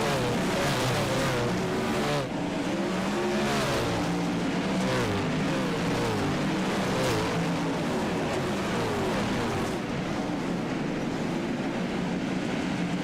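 A tight pack of sprint race cars roars around the dirt oval at Lincoln Speedway, loud continuous engine drone with shifting, overlapping pitches as cars pass close together, with no talk.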